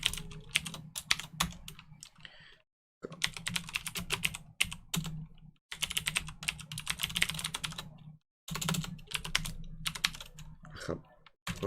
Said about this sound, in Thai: แล้วอันนี้เราจะพิมพ์อีกรอบนึงตรงนี้